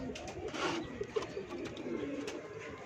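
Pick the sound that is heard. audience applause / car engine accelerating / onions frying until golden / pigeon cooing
pigeon cooing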